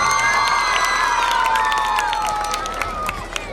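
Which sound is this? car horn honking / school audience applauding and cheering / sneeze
school audience applauding and cheering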